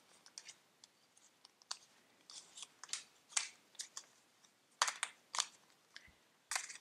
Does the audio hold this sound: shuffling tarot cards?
yes